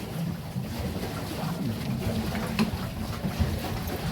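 A hand-operated boat crosses a lake in Nepal, heard as steady wind buffeting and soft water wash, close and continuous, with no clear strokes and no talking.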